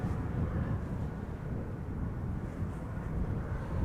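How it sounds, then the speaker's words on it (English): A jet airliner approaching to land at Schiphol Airport makes a steady, distant, broad rumble with a windy outdoor roar and no voices. "The next airplane to arrive, KLM flight 591, lining up behind me"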